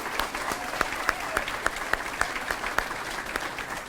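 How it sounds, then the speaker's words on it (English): Moderate applause at a high school all-sports banquet honoring athletes, with individual sharp claps standing out over a continuous patter of clapping from the room. "So give them a round of applause."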